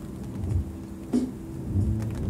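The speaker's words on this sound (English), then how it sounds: "that, my dear friends, is thunder" Low thunder rumbles in the distance with a sharper crack partway through, set against a soft bed of rain, fairly faint overall and with no talking.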